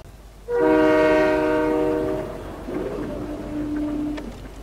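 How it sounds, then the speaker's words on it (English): A train in a video game blares a loud, sustained horn chord that holds for a couple of seconds, then gives way to rolling rail noise with a fainter second horn note near the end. "Train, yeah!"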